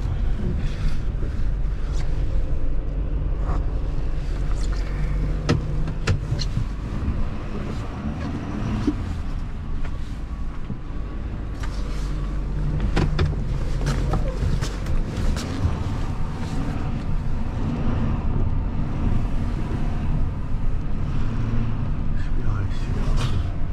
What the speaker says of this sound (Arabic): اتوقع هاي السياره هي الاف 150